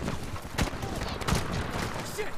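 Bursts of gunfire from the video game Medal of Honor, two sharp shots over a dense, continuous battle din that fills the short stretch.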